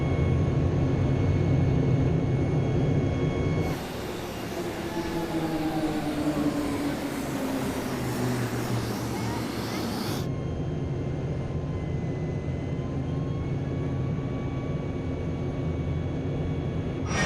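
Indonesian Air Force Jupiter aerobatic team jet heard from inside the cockpit during a display, a steady loud engine roar and airflow rush with shifting pitch throughout, swelling into a broader hiss for several seconds midway.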